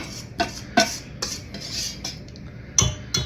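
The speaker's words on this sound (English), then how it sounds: "I'll clean the bowl out with my whisk" A metal whisk scrapes and clinks around a mixing bowl during bread making, giving a string of close, irregular scraping strokes and light taps with no talk.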